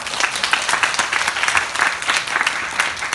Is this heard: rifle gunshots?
no